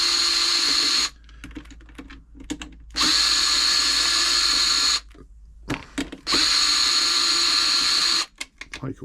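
A power screwdriver backs out the bottom cover screws of a Janome Memorycraft 3000 sewing machine, whirring in three long, loud bursts separated by quiet gaps filled with small clicks and handling noises.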